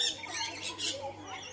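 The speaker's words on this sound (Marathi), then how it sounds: "कलरफुल पोपटा लाल." Colorful red parrots give a few sharp, high squawks in quick succession, fairly near and moderately loud over a quiet background.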